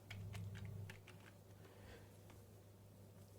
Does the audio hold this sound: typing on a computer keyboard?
yes